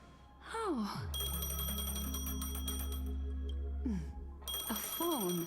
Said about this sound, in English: A phone. Wanna listen in?